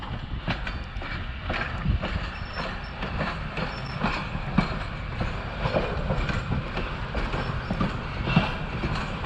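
Train on the Nevada Northern Railway in Ely, Nevada, creeping along a wye track to turn around, giving steady moderate rumbling with repeated rail clicks and wheel clanks throughout.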